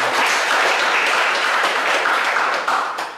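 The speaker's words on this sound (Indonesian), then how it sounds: "tepuk tangan yang meriah." Church congregation applauding during a Sunday morning service: loud, dense clapping from a crowd filling the room, sustained evenly and then tapering off at the end, with no speech over it.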